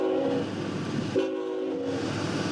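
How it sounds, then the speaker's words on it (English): A Norfolk Southern train horn sounds two loud, close, sustained chord blasts back to back, with a brief dip between them and no talking. "Yeah, I can hear the horn."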